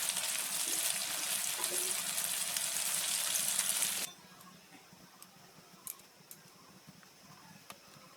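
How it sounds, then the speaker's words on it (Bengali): Whole spices (cloves, cardamom, cinnamon, bay leaf, dried red chilli) crackle in hot mustard oil, a loud steady sizzle that cuts off abruptly halfway, leaving quiet with a few faint ticks and pops. "তেল দিয়ে দিয়েছি, সর্ষের তেলে রান্না করছি। ফোড়ন দিচ্ছি গরম মশলা, লবঙ্গ, এলাচ, দারচিনি, তেজপাতা, শুকনো লঙ্কা"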